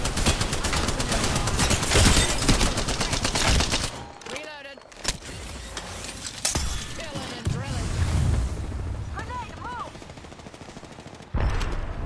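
Rapid automatic gunfire in the Apex Legends video game rattles in dense bursts, broken by short pauses and a few lone shots, with voices talking over the action.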